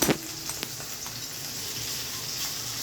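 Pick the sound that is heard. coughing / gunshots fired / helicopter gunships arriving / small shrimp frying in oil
small shrimp frying in oil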